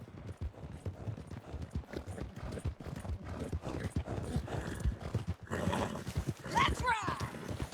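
Rhythmic clip-clop of a horse galloping hard in the Red Dead Redemption 2 video game, steady hoofbeats running throughout with a brief whinny near the end, while people talk over the action.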